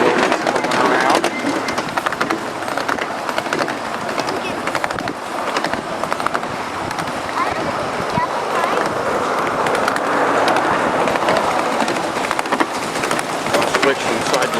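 A live steam miniature train ride at Railroad Park in Medford, Oregon: continuous rumble and clatter of small rail cars rolling along track, close and steady, with faint voices mixed in.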